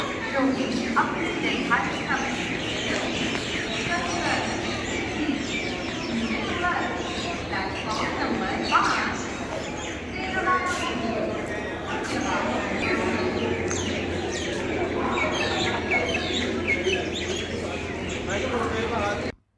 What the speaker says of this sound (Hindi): आप सुन सकते हैं सुबह सुबह कालका स्टेशन पे चिड़ियों की आवाज़।